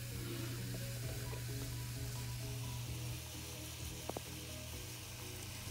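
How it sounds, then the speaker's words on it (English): Baking soda fizzes steadily after vinegar is poured in, a faint continuous hiss of bubbling close by, with a low hum underneath and one brief tap. "Now pour some vinegar into your baking soda."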